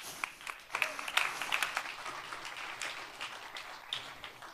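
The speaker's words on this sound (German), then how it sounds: "Einen herzlichen Applaus." Audience applause at a youth hackathon presentation event in Berlin, a steady wash of clapping from a crowd with scattered sharper claps, moderately loud and without talk.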